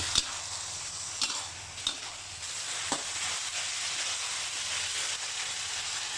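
Pork frying with garlic in a pan gives a steady, dense sizzle and hiss throughout, with a few sharp ticks from stirring near the start, no talking.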